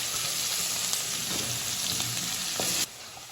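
Cumin and chopped onion fry in hot oil, giving a dense, continuous sizzle with faint stirring ticks before the hiss drops abruptly near the end.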